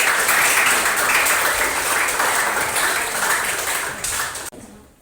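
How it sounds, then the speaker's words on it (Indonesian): A classroom full of students claps together in loud, dense, steady applause lasting several seconds before it cuts off abruptly at the end. "Kasih tepuk tangan untuk kita semuanya."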